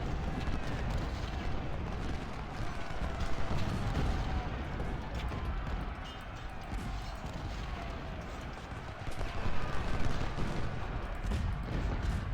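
Artillery fire in the Ultimate General: Civil War video game, a dense, continuous rumble of booming cannon and gunfire rolling on through the battle with swelling bursts and no clear pauses.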